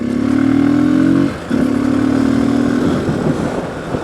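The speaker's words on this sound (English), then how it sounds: "the idle RPM would go up and down and up and down" An idling Hero Xpulse motorcycle engine hunts up and down in RPM, a close, loud, steady tone that rises, dips sharply, then recovers and slowly sags again without settling.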